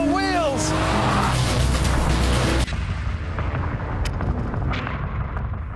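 A Lamborghini Murcielago Roadster accelerates hard, its engine roaring loud and close through a rising gear, then cutting sharply to a rougher, lower roar as the next gear engages. Wind rushes around it.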